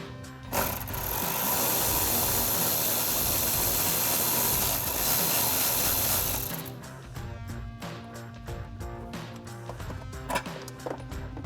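A ratchet wrench with a 10mm socket clicks away at a bolt on a 2015–2023 Ford Mustang, with a dense, loud mechanical rattle for about six seconds, then sparser clicks and taps.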